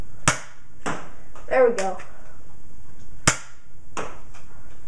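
A Nerf Zombie Strike Doublestrike blaster fires foam darts: four sharp snapping shots spaced about a second or more apart, close and loud, with a brief spoken remark between them.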